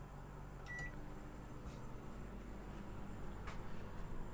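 A quiet, steady hum of a running microwave on an off-grid solar lithium battery system, with a brief electronic beep near the start, faint background noise throughout.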